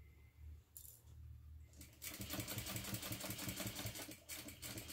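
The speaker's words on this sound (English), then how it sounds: "I'm going to backstitch a couple stitches since this is holding those pieces together, and just top stitch right along the edge" Sewing machine top stitching a fabric envelope wallet, a couple of slow separate stitches followed by a fast steady run of rhythmic needle thumps, quiet and close.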